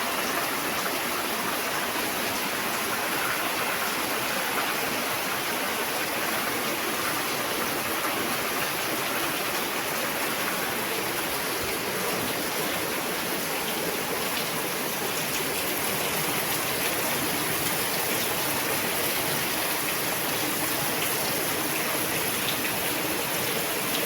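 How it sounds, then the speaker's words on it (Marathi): Heavy rain pours steadily in a rural village, a dense continuous hiss with no break for the whole stretch, fairly loud and close, with no voices. "जोराचा पाऊस आला आहे आता."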